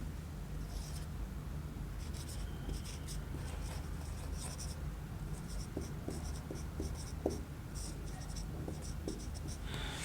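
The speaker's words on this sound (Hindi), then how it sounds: "नोट में ये हम लिख देते हैं" Pen on paper as notes are written by hand during a tense lesson, steady scratchy strokes with short rhythmic ticks, heard close and continuous.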